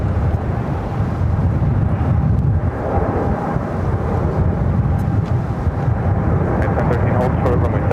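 A Boeing Dreamliner airliner bound for Amsterdam rolls down runway 7 left at LAX on a day of extreme winds, giving a continuous low, rumbling jet roar with broad wind-like noise throughout.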